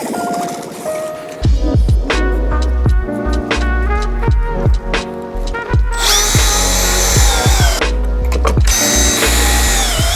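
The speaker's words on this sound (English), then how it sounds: "Now that I have all my pocket holes drilled out about every 8 inches or so" Power drill boring pocket holes into wood for a desk shelf: repeated short motor bursts and clicks, then a longer loud whine as the bit runs, stops briefly and resumes, close and without talk.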